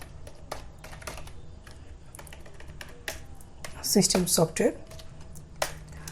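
Quick, close keystrokes on a computer keyboard while entering a list in MS Word 2007, coming in short irregular bursts with a voice briefly heard partway through.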